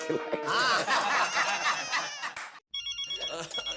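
A telephone rings in a home, a short electronic ringtone trill heard faintly after laughter and lively talk, its repeated tones sounding briefly near the end.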